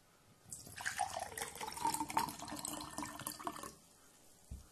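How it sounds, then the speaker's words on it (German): Tzone white tea soft drink poured from the bottle into a glass, a close, steady splashing and gurgling stream lasting a few seconds before tapering off, followed by a small knock. "Schenken wir jetzt mal etwas ein."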